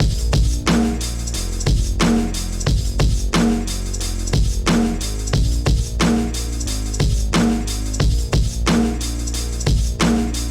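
A hip-hop beat built from a chopped sample, layered with a heavy kick and snare and squeezed through analog clipping and compression, looping loud and dense with a steady, repeating rhythm.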